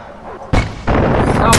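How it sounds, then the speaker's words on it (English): A mortar fires in Far Cry 4 with two or three heavy, booming launches in quick succession. Each thump is loud and close, with a brief rumbling tail. "Piece of crap mortar."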